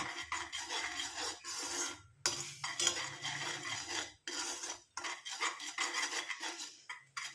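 A spoon stirs herbal hair dye powder mixture in a bowl, giving close, scraping clinks and swishes in uneven bursts with short silent gaps between them.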